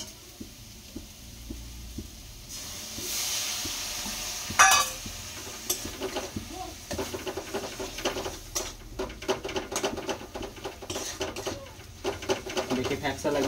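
Spice paste for ghugni simmering with water in a pan, giving a soft, steady bubbling and sizzle with intermittent stirring scrapes and clinks, fairly close and moderate in level, with no voices.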